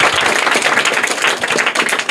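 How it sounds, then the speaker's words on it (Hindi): A crowd at a village quiz event in Bihar claps loudly and steadily for the first-place winner, dense close applause filling the whole moment without talk. "जोरदार तालियां इनके लिए।"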